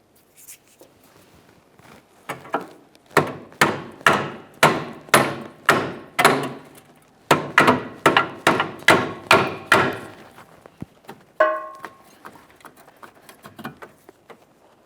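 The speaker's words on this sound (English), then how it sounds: "give it a couple loving bonks with a hammer" A run of sharp metallic hammer blows on a rusted part of a 2002-2009 Chevrolet Trailblazer, about a dozen in steady rhythm, a short pause, then another burst of strikes, close and loud.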